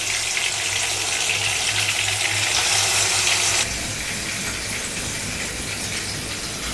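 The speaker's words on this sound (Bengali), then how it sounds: "এখন তো মাছ ভেজে নিবে। মাছ ছেড়ে দিই।" Marinated fish dropped into hot oil in a home kitchen gives a loud, steady, gushing sizzle that fills the space, then settles to a slightly quieter hiss about halfway through.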